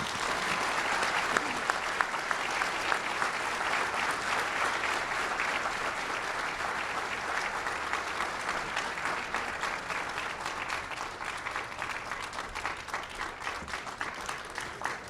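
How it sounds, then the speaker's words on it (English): Keynote audience giving a sustained round of applause in a large hall, dense and continuous clapping with a few sharper individual claps standing out toward the end. "Please give them one more round of applause."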